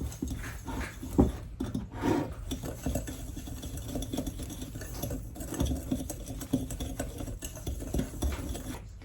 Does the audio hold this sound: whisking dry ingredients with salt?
yes